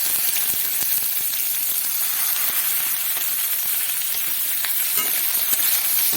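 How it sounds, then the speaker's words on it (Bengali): Potato peels sizzle in a pan over low heat, a steady close crackling hiss with scattered pops that runs unbroken throughout. "এগুলো একসাথে বেশ ভালো করে অল্প আঁচে ভেজে নেব"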